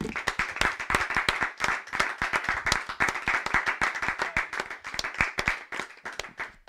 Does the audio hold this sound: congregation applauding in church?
yes